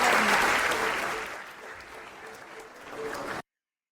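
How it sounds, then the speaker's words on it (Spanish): Concert audience in a municipal theater giving an ovation, loud dense applause that gradually fades and thins, then swells briefly before cutting off abruptly. "Vaya ovación"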